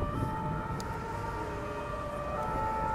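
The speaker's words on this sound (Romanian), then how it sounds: "se aud din când în când mașini de poliție" A police car siren wails steadily at moderate loudness over city street noise at night in a square, holding a continuous tone with no talking.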